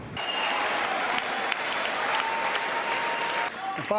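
A loud, dense ovation from a congressional audience for Biden fills the hall, steady and continuous throughout, with a few voices faintly audible near the end.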